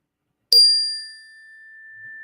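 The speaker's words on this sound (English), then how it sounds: "let that bell ring for recess forever" A small hand bell is struck once, giving a bright, clear ring that starts sharply and then sustains a long, steady tone as it slowly fades. It rings alone in a quiet room.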